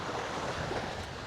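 Sea waves at a beach resort in Tibagon, Pantukan, Davao de Oro, a steady, soft wash of surf mixed with light wind, distant and even throughout.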